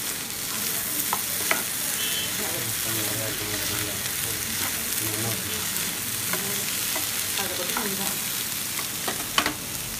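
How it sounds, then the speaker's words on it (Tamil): Mixed vegetables with pepper being stir-fried for mutton fried rice: a steady close sizzle runs throughout, broken by scattered scraping and clinking stirring sounds, with no talking. "பெப்பர் ஆட் பண்ணி ஒரு 2 செகண்ட் வந்து ஃப்ரை பண்ணிக்கலாம்"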